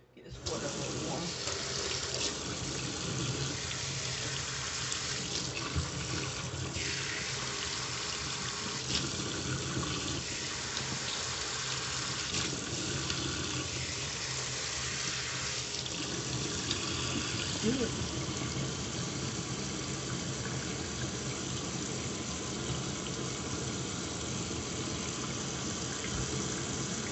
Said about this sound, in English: Get this water a little warm.